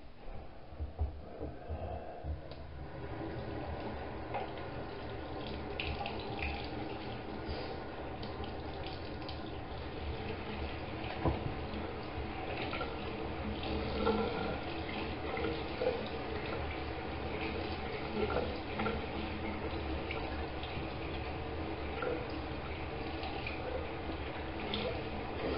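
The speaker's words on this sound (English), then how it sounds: "Now I wash my hands." Tap water running steadily into a bathroom sink while hands are washed, a continuous close rush and splash that holds for about 25 seconds with no talking.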